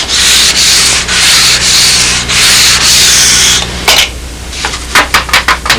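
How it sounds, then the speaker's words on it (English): Steady rasping strokes of hand sanding on a wooden wing part, a long continuous run of back-and-forth rubbing, then a few shorter, sharper scrapes near the end. "Put a light sanding on the whole piece of wood, true it up."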